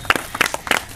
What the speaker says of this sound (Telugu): క్లాప్స్ కొట్టరా మరి మీరు.